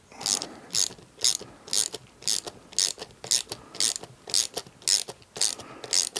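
A ratchet clicks in about a dozen quick, evenly spaced bursts while lock nuts are tightened on a DIY emergency power station, close and crisp with no talk.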